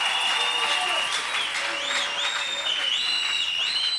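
A church congregation applauds and cheers the Lord at a Christian worship service, sustained clapping and crowd noise running under loud, ringing music.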